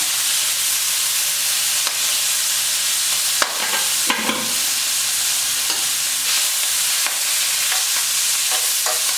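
Collard greens, red and white onions, garlic and bell pepper frying in a little oil in a pan, a steady loud sizzle with a few sharper crackles and stirring clatters partway through.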